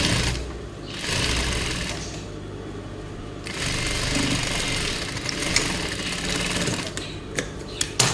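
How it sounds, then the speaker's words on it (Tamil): An electric sewing machine runs stitches on fabric in bursts, a steady fast whirring rhythm that starts and stops several times, close and fairly loud with brief pauses between runs. "இன்னொரு தையல் போட்டுக்கலாம்."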